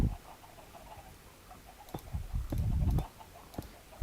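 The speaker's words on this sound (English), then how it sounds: "Chickens are very active over there, clucking around, being all chickeny and stuff" Minecraft chickens cluck in short, scattered bursts, with a few louder clucks and soft pattering sounds over a quiet game background.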